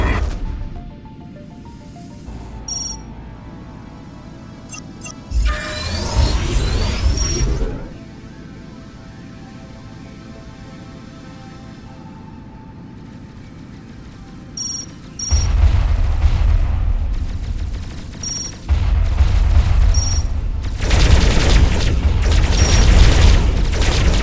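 Ship weapons firing during a Starpoint Gemini 2 space battle, with loud booming bursts and crackling energy shots in clustered volleys, plus scattered electronic chimes over a low steady hum.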